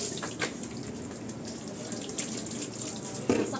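Water pours and splashes steadily over a dog during its bath, a soft, constant running-water sound like a tap filling a basin, with brief louder splashes.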